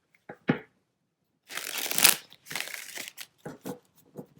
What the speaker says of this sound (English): I'm going to give it a few shuffles here